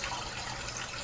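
Water drains steadily down a bathroom sink drain with a soft, continuous gushing rush, short and fairly faint.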